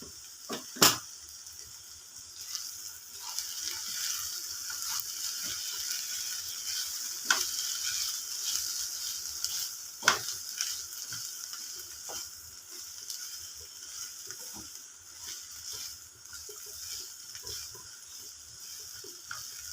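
Capsicum and brinjal fry with pepper powder sizzling steadily in a pan while a utensil stirs and scrapes, with occasional sharp clinks over the continuous frying hiss.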